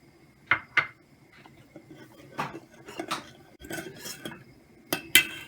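Starch is stirred into a boiling sour cherry pudding mixture in a pot, with a spoon clinking and scraping against the sides in irregular strokes, close and moderately loud.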